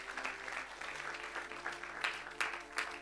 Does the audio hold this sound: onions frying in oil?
no